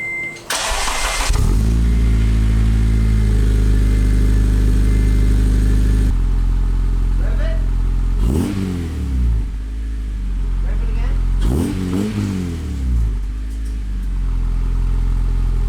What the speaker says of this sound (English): So now all we gotta do is just start the car.